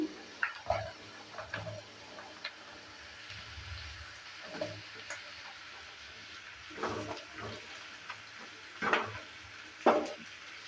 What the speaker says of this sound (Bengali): একটু এভাবে করে নেড়ে চেড়ে নিচ্ছি